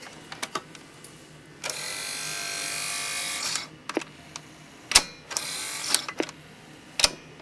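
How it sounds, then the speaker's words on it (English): An electric motor shaft rubbing against a metal piece, giving a sustained grinding whir in two spans of about two seconds each, separated by sharp clicks and mechanical clacks close to the listener. "Makes that sound because the shaft is rubbing against that metal piece there."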